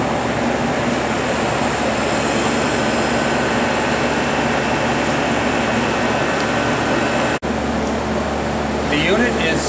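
An Astex AX8403A ozone generator runs indoors with a steady, loud, broadband fan-like hum that barely changes, with a voice talking over it.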